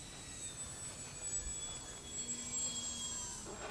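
A Flightline OV-10 model airplane on its maiden flight, its motors at about quarter throttle giving a steady, thin high-pitched whine from a distance over faint background hiss.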